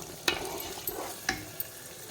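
Tomatoes fry softly in oil in a pan for seeraga samba mutton biryani, a faint steady sizzle broken by a few sharp clicks of stirring.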